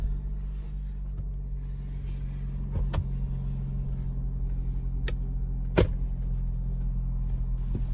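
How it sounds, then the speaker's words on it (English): A 2019 Lexus RX300 engine idling after an emergency start inside a multi-story building: a steady low hum runs throughout, broken by a few sharp clicks and a short thump near the end. "and start the engine."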